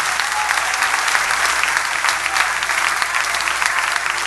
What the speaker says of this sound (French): applaudissements pour ça